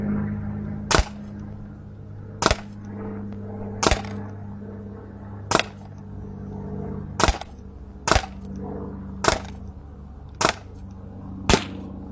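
Nine sharp, snappy cracks from an Artemis CP400 air pistol ring out in quick succession at slightly uneven intervals, each crisp and close over a low steady background hum.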